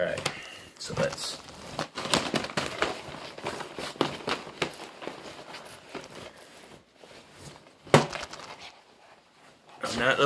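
Crisp riffling and clattering card shuffles repeat close by, with brief pauses and a sharper snap near the end.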